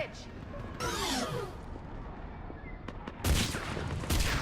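Bursts of gunfire from a mounted gun in Mass Effect 3 during a battle, with whooshing projectiles and a loud, dense volley near the end; shouted voices can be heard in the mix.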